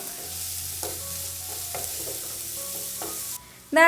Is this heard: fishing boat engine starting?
no